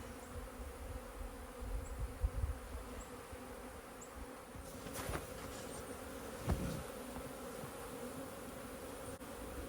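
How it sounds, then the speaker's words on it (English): Honeybees buzz outside their hive on a sunny winter day with snow on the ground, a faint steady drone with a few bees passing close, and no talking. "And all of the bees are coming out."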